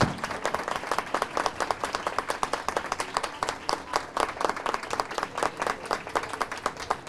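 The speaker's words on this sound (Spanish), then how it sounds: "Un gran aplauso." A roomful of people gives sustained applause at the close of a panel talk on public procurement planning: dense, steady clapping from many hands, fairly close and even throughout, with no voices over it.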